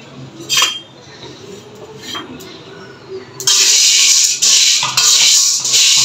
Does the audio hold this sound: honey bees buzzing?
no